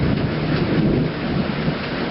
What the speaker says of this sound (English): I love thunder or lightning